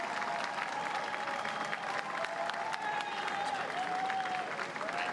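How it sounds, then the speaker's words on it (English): Sustained crowd applause fills a UK general election night broadcast setting, steady and continuous but faint and somewhat distant, with no break throughout. "let's hear the applause and everything"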